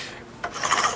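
A Rotatrim rotary paper trimmer cuts off excess paper, making one close, short rasping slide that starts quietly and builds to a bright scrape.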